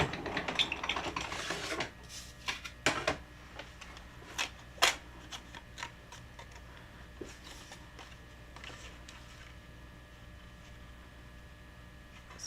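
A paper-cutting machine works through a card, with sharp clicks and rattling bursts in the first few seconds, then a quiet steady mechanical hum and a few scattered ticks. No voices.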